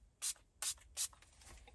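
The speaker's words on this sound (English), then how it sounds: "Spray the surface" A spray bottle squirts liquid onto the LCD instrument cluster screen of a third-generation Toyota Tacoma: three short, close hissing bursts in quick succession, then quiet.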